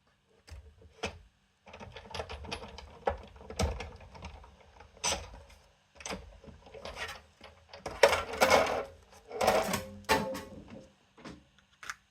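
A die cutting machine cutting pumpkin shapes from paper runs in bursts of clicking, whirring mechanical noise with short pauses between passes, fairly close and moderately quiet.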